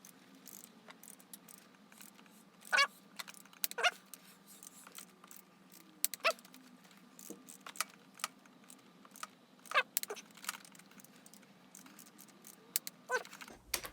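A torque wrench tightens valve cover bolts on a KTM 690 Enduro R motorcycle, giving a few sharp metallic clicks and ratcheting taps spaced out over quiet garage background hum.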